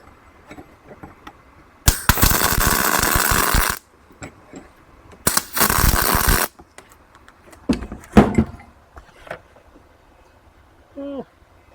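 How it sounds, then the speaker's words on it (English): An angle grinder grinds metal during repair work on a project car. Two loud, close bursts of harsh grinding, about two seconds and then just over one second, are separated by quieter workshop noise, with brief clatter afterward. "Fix that with the grinder after."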